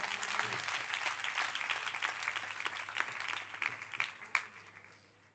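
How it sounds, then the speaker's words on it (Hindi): A church congregation bursts into loud, sustained applause and clapping from a large indoor crowd, holding steady throughout and tapering off at the very end. "जोरदार ताली बजाएंगे उसके लिए।"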